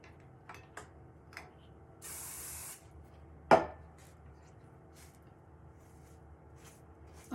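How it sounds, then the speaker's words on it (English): A single short burst of hairspray misted onto the roots of a wig, a steady hiss lasting under a second amid quiet room sounds, followed by a sharp knock. "I'm just adding hairspray to make it spread."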